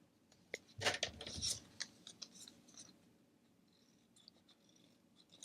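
Scissors snip the corners off a sheet of paper being made into a fold-out concertina envelope folio: a quick cluster of close, crisp cuts near the start, then fainter scattered snips and rustles.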